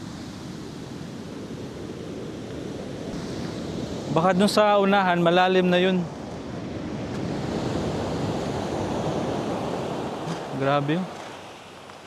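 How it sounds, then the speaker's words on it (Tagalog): Steady roar of heavy surf and wind at a remote beach in General Nakar, Quezon, with a person talking briefly over it and another short voice near the end. "Ganda ng dagat to. Kaya lang grabe ang alon. Lakas ng alon."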